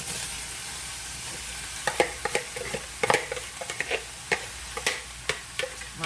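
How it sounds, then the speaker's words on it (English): Potatoes frying in olive oil in a hamburger skillet, a steady close sizzle with scattered sharp crackles and pops throughout, no voices. "another 2 tablespoons of olive oil. And I'm going to add my potatoes to it."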